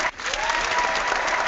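Canned applause played from a clapper sound board: a steady, dense burst of clapping and light crowd noise, loud and continuous for about a second and a half.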